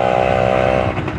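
Motorcycle engine, a stock-spec bike fitted with an aftermarket exhaust, revving loud and close with a steady droning tone that breaks into rougher pulses near the end.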